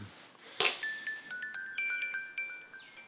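A mobile phone rings in a home with a bright electronic melody of repeated chiming tones. The ringtone is fairly faint and moderately distant, with no talking over it.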